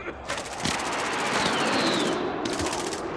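Rapid automatic gunfire bursts from a Call of Duty Warzone match, loud and continuous with a brief gap near the end, backed by dense game ambience.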